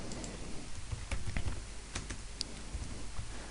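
Computer keyboard typing, a short burst of close, quick key clicks over a quiet hum, steady and soft for a few seconds, with no one talking.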